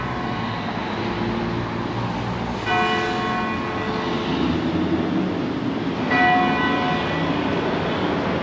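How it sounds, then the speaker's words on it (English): Two slow, loud church bell strikes ring out a few seconds apart at nine o'clock in Amish country, Holmes County, Ohio, each leaving a long humming tone that fades over a steady background rumble. "9 o'clock. Ringing the bell."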